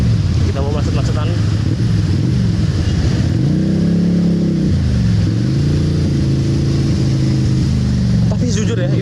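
Deep rumbling V-twin engine of a Harley-Davidson-style motorcycle idling and pulling in slow traffic, loud and close with wind buffeting, the note dipping and swelling between gears.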